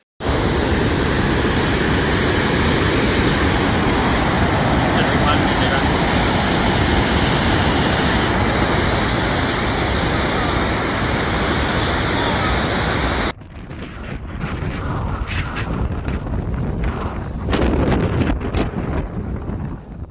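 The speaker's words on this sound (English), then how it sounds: "heavy rain continued hour after hour, turning normally busy streets into rivers" Heavy tropical storm rain pours in a dense, steady roar for most of the stretch, then drops abruptly to a thinner, patchier downpour with gusty bursts near the end.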